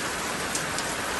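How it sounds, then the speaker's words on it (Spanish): Steady rain pours down in a mountain area, a dense even hiss of drops on surfaces with no pauses, moderately loud and close. "Miren, preciosa la lluvia"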